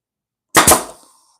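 A single sharp brad nailer shot driving a brad, a loud close pop with a quick double attack and a short metallic ring fading within about half a second, surrounded by silence.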